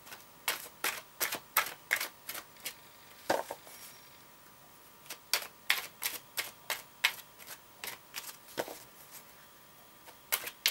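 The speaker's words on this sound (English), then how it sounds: "I'm just going to give it a quick shuffle." An oracle card deck being shuffled, giving a quick series of crisp, sharp card snaps and riffles at an uneven rhythm, close and fairly clear with a faint hum underneath.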